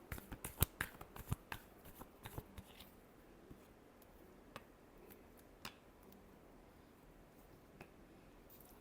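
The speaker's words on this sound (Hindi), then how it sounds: "Last shuffle." Tarot cards are shuffled by hand, giving quiet papery riffles and ticking clicks clustered in the first couple of seconds, then sparse soft taps over a faint background.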